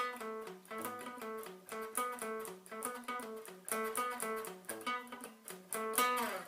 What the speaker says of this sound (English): the last part is a pretty funky riff in the bridge